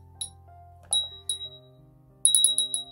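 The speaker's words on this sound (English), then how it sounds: "I don't really need a porcelain bell" A small porcelain bell gives a few light, clear chimes: a single ring, a second, and then a quick cluster of bright tinkles near the end, close and fairly quiet.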